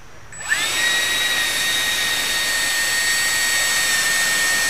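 Electric ducted fan spinning up and holding at throttle during balancing, a loud steady high-pitched whine with sharp tonal harmonics that rises quickly then stays constant, no voices.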